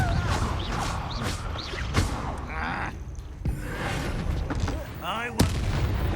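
Confringo spell explosions in the video game Hogwarts Legacy go off as several loud, sharp blasts spread across the moment, mixed with game voices and effects.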